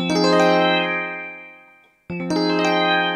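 Sustained electronic keyboard chords from a Yamaha PSR-E series keyboard, with the sustain effect on, ring out and slowly fade to near silence, then a fresh set of bright notes strikes and holds.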